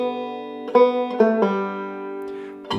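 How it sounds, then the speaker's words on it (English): Melodic banjo playing a short phrase in which two quick sixteenth notes are sounded with a pull-off among ringing plucked notes, close and clear with no talk. "And moving on to measure 4, we have 2 16th notes played with a pull off."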